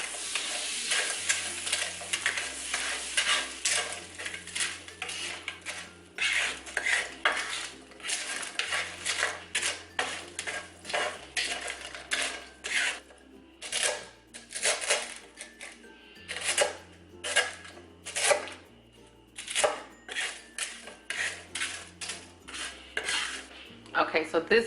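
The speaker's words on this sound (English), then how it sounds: "now I'm just going to heat my skillet back up and then toss them in this melted butter" Pork rinds are tossed in melted butter in a hot skillet: repeated metallic clanks and scrapes of utensil on pan come in bursts over a light sizzle, with background music running underneath.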